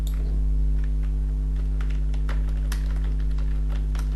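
Rapid, irregular clatter of keys on a computer keyboard as a file name is typed, close and fairly steady over a constant low electrical hum, with no voices.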